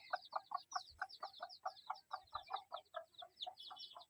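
Chickens inside a chicken house give rapid, repeated clucks and chatter, a dense rhythmic stream of calls from several birds at moderate distance, with no talking.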